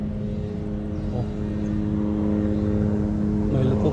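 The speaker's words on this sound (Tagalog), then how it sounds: "May helicopter. May helicopter masyate." A helicopter flies overhead, a steady low droning rotor and engine hum that grows slightly louder, with a brief exclamation from a voice.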